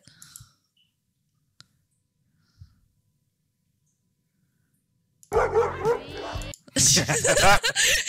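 A dog reacts after a fake petting gesture, with loud close yips, whimpers and barks bursting out after a long quiet stretch with a few faint clicks, while people talk over it.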